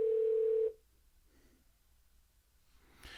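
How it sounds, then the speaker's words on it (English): An incoming call rings through a Pioneer AVH-110BT car stereo over Bluetooth: one loud, steady electronic tone that stops abruptly after under a second, followed by quiet cabin hush and a soft rustle. "here you can see the phone is ringing"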